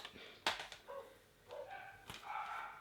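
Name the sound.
dogs barking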